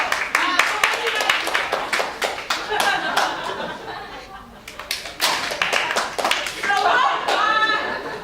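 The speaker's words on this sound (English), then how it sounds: "You deserve your applause." Audience at an improv comedy show claps in a dense, sharp burst of hand claps, close and loud, with some laughter mixed in and a brief lull before the clapping swells again.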